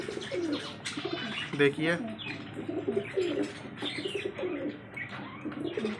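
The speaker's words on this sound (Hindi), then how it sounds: "देखिए बहुत ही अच्छे अच्छे कबूतर आ चुके हैं हमारी शॉप पर" Pigeons in a pigeon shop in Azamgarh coo and chirp in the background while someone talks over them throughout.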